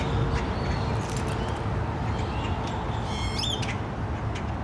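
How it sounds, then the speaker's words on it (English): Birds squawk and chirp over a dense, steady roar of traffic or wind, with a few sharp calls standing out near the end. "Birds? Can you hear them?"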